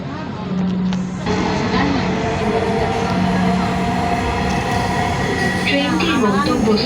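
A Dhaka metro train rumbles steadily at a station platform, with tonal chimes and a public-address voice announcement over the running noise.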